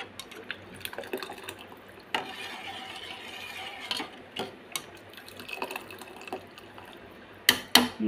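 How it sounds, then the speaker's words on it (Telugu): Payasam made with milk, cardamom and almond powder bubbling in a pot, with soft gurgles and pops and a few sharper clinks and taps. "చూసారా ఇట్లా మరుగుతుందో"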